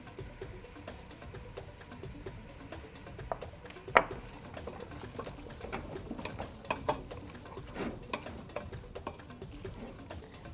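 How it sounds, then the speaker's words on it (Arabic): A spoon stirs garlic and dried coriander in a cooking pot, scraping and clinking in irregular bursts over a faint sizzle, with a sharper knock midway and no talk. "ونقلب كده"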